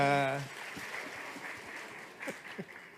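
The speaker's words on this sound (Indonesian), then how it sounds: "Tepuk tangan biar rame." An audience at a podcast event claps, with light applause pattering beneath a presenter's speech and a short musical tone at the start.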